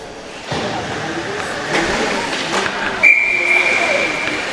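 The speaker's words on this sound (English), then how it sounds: "And say, give me a whistle." A referee's whistle in a district sports game sounds one sharp, sustained high blast late on, cutting over a noisy crowd and arena din while people talk.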